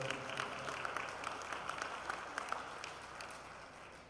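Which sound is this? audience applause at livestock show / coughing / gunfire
audience applause at livestock show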